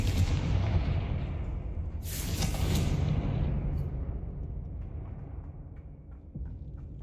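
Confringo blasting spell explodes in the video game Hogwarts Legacy, a sharp bright blast that rolls into a long booming rumble and slowly fades, heard alone without talk.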